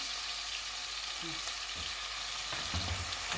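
Chicken and onion fry in a few ladles of hot oil with a soft, steady sizzle. It is quiet and constant, with a few faint clinks of a utensil and no speech.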